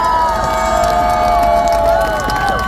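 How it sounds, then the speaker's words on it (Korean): Outdoor crowd at a street lecture in front of the War Memorial cheers and applauds for the judges, a loud continuous roar with raised voices and whoops throughout. "그 판사님들을 위해서 박수 한번 부탁드립니다"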